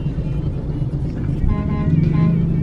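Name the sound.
motorcycles driving past in traffic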